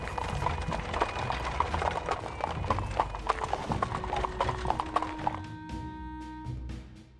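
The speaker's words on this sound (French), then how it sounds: "tractée par un attelage de 24 chevaux" Clip-clop of many horse hooves from a team of 24 horses hauling a heavy bronze statue, a dense steady clatter of hoof strikes with faint tonal sounds alongside, fading toward the end.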